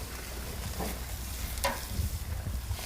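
Onions sizzle on a grill for a burger, a close, continuous frying crackle broken by a few short scrapes as they are stirred.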